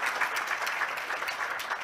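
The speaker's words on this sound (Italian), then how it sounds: "per cui fate un applauso preventivo" Audience applause at a seminar on law and new technologies for IT, a steady patter of many hands clapping at moderate loudness for nearly two seconds, with no voices over it.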